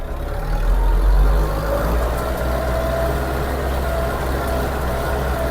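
The engine of a Scout 404 mini tractor drones steadily and loudly as it ploughs a garden plot, a continuous low rumble that keeps the same pitch throughout, close by, with no voices.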